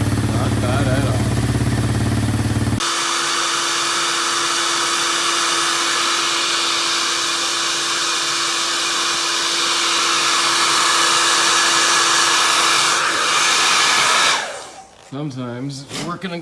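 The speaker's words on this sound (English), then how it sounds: "sometimes a hair dryer does great at warming it up to allow you to slip it on" A hair dryer blows steadily and loudly, warming rubber connector boots in cold weather while working on a 1987 Honda TRX200SX, with a continuous whooshing roar that cuts off abruptly near the end.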